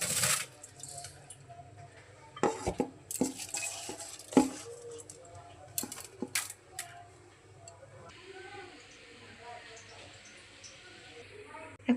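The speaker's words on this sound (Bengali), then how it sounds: "চালগুলো ভালোভাবে ধুয়ে নিচ্ছি।" Rice grains are washed in a pot, making quiet, close, irregular swishes, patters and small clinking ticks as the grains are stirred and rubbed in water, in intermittent bursts.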